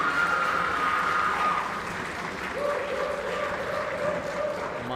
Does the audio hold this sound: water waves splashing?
no